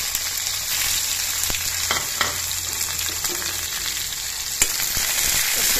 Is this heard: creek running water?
no